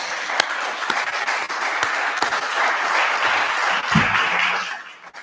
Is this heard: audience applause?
yes